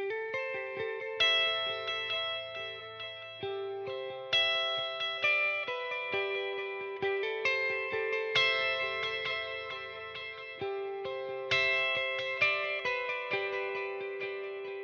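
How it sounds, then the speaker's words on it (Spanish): An electric guitar plays a melody through a stereo delay on a Line 6 Helix, each clean plucked note followed by rhythmic repeating echoes that trail off between phrases, with no talking. "qué pasa si yo toco una melodía encima de este delay?"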